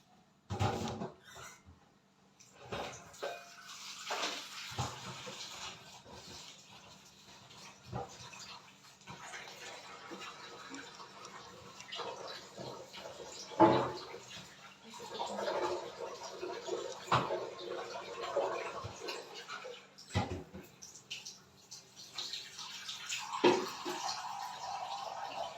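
Soup ingredients get washed by hand in water for gbegiri soup. Soft sloshing and splashing come in uneven bursts, with occasional knocks of a bowl, close but fairly quiet.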